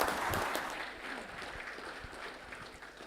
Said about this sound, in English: please another big round of applause for the Honourable Manoa Kamikamica.